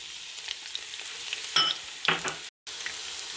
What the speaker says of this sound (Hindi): अब हम इन्हें 3 मिनट तक अच्छे से फ्राई कर लेंगे